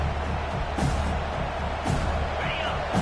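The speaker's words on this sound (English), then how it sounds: "This crowd bringing the energy and noise early" Football stadium crowd at an Oregon Ducks game, a steady dense roar of many voices with swelling peaks, loud and continuous throughout.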